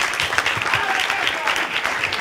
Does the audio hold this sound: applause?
yes